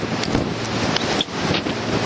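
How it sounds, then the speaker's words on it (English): Strong wind roars steadily outdoors near Haines, Alaska, on the way back to a cruise ship, with buffeting gusts hitting the microphone and a constant rushing noise throughout. "Very windy out, heading back to the ship from Haines,"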